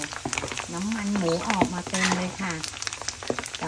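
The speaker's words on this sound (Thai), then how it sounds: "ทอดง่ายมาก ตอนนี้หมูก็กำลังกรอบ เป็นแคบหมูน่ากินมาก" Pork cracklings deep-fry in very hot oil with a close, continuous sizzle and scattered crackling pops, while a voice-like tone hums faintly underneath.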